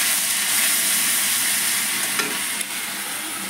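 Garlic hits hot oil with sugar in a pan, a loud, close, continuous hissing sizzle with a brief stir near the end.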